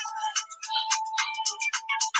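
An iPhone ringtone plays a quick, bright melodic pattern of repeated chiming notes, fairly close and clear, with no voices over it.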